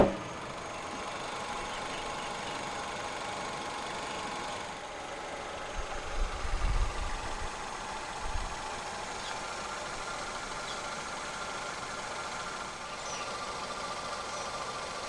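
A 2016 Kia Rio 1.4 SX five-door hatchback idles steadily and fairly quietly with a smooth, even hum, a brief low rumble rising briefly partway through.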